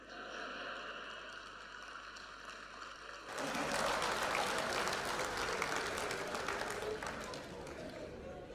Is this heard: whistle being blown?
no